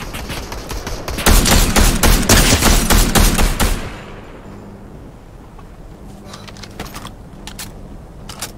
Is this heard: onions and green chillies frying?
no